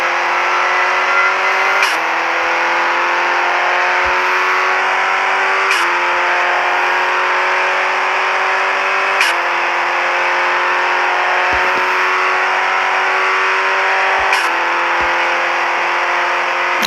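The fastest car in the Assetto racing video game revs up through its gears, a loud, continuous engine drone climbing in pitch, dropping briefly at each of several gear shifts and climbing again, close and alone without talking.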